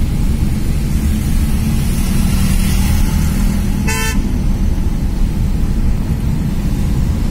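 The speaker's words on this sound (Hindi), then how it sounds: "इसको भी हॉर्न फॉरन कुछ नहीं है, बाद में हॉर्न दे रही है।" A single short car horn toot sounds over steady, loud road traffic rumble, heard from inside a Tata Nano.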